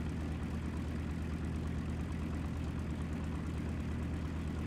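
Continuous droning of a propeller aircraft engine in the video game War Thunder, steady and fairly close, with no voices.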